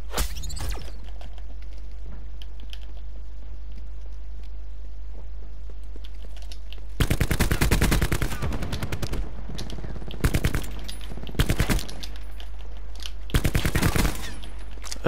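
Gunfire in a Call of Duty Black Ops 4 free-for-all match: after a quiet stretch of ambience, loud close bursts of automatic weapon fire arrive in several separate volleys with short gaps between them.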